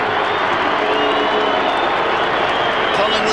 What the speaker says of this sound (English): Collingwood supporters booing.